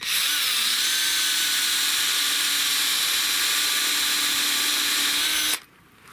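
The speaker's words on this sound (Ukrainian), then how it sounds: "Ого, ріже набагато важче. Дуб важче пішов." A power saw cutting through an oak branch, a loud steady high-pitched whine held for about five and a half seconds before abruptly stopping.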